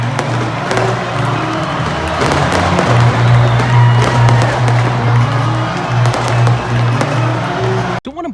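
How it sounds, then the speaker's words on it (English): Fireworks go off in left field at SunTrust Park after an Atlanta Braves win, a loud, continuous wash of bangs blended with roaring stadium crowd noise that ends abruptly. "they set off fireworks in left field"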